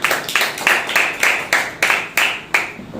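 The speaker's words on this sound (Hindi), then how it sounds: "सबसे पहले परमेश्वर के लिए एक जोरदार तालियां" A congregation at a Wednesday church service claps together in a brisk, steady rhythm, with loud, close, repeated sharp claps and no talking.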